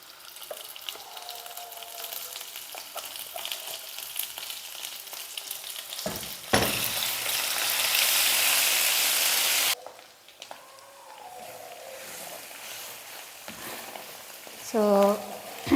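Ground cabbage chutney added to hot oil with fried tempering, a light sizzle that bursts into a loud hissing fry for a few seconds before settling, with a voice talking over parts of it.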